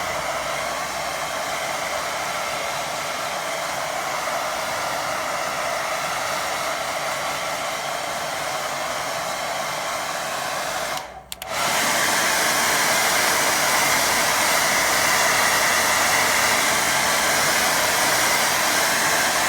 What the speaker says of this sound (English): give that a quick blast with dryer again